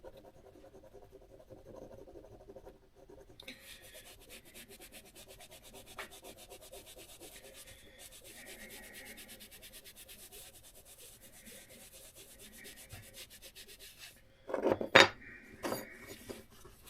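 Chrome drum parts from a Hoshino Kougyou kit are rubbed and polished by hand, a soft, quiet continuous rubbing with a louder scrubbing burst near the end.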